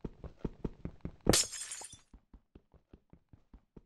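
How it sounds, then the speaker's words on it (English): Nether portal breaking in Minecraft, a single sharp glass-shattering crash near the start, set among a steady run of soft rhythmic footstep or block taps before and after. "The fact that it's a glass break sound never not be weird."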